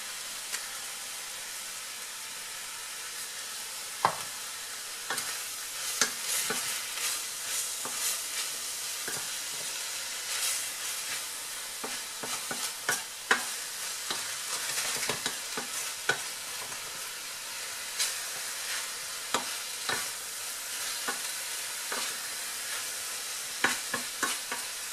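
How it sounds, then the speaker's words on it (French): Mushrooms sizzle steadily in a frying pan in a chicken with mushroom and curry sauce dish, a continuous crackling fry with scattered sharper pops and occasional stirring scrapes throughout, with no talking. "Je vais bien les laisser suer, qui rendent bien leur eau."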